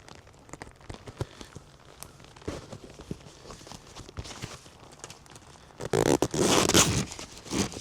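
A burst of rustling and a quick zipper pull on a leather biker jacket near the end, after quieter shuffling and small handling noises.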